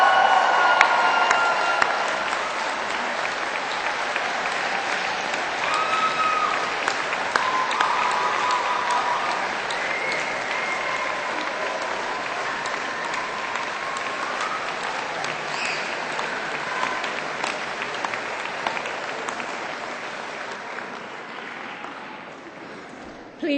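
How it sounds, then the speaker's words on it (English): Graduates at a 2012 Manchester Metropolitan University graduation ceremony applaud their parents, families and friends in a large hall, a dense, steady roar of clapping lasting throughout and slowly fading toward the end. "thank them for their support by applauding"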